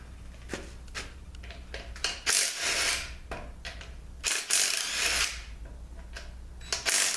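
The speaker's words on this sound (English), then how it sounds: "Now I want to get these pump bolts out." A ratchet and tools work loose transmission pump bolts during a 46RE automatic transmission teardown, giving bursts of clicking and grinding metal scraping in several separate pulls with brief pauses between them.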